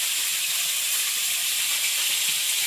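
Fish fries in a pan with a loud, dense, steady sizzle and hiss of hot oil that fills the whole moment without letup.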